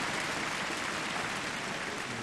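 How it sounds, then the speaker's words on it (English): An arena crowd at a men's volleyball World Cup match in Japan claps steadily in a dense, even wash of applause as a player returns to the court. "It's a nice round of applause for him for coming back out onto court"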